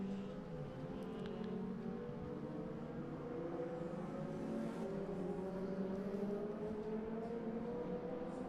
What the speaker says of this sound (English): Jonathan Files sliding the car around.